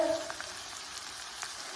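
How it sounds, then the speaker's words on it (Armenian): Carrots frying in a pan for a funchoza noodle dish with chicken, a steady close sizzle with a few light stirring taps and no voices. "ուրեմն տապակում եմ գազարը"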